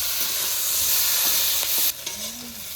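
Fish fries in a kadai with a loud, close, continuous sizzle that stops abruptly partway through, leaving quieter kitchen sounds.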